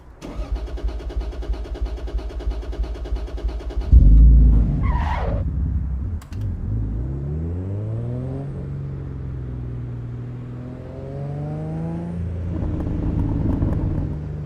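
A race car engine in the game Assetto Corsa EVO roars with steady buzzing harmonics, then revs up and down in rising sweeps, loud and close, with no talking.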